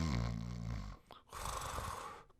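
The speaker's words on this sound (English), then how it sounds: "And I snore louder than that because I've got obstructive sleep apnea" One loud snore from a man with obstructive sleep apnea: a deep rattling inhale, a brief pause, then a noisy breathy exhale, close and with no talk.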